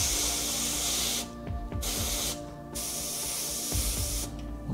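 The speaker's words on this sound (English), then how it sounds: "So I'll spray through this." An airbrush hisses in steady bursts, spraying paint through a mask onto a helmet, with short pauses between passes, close to the microphone.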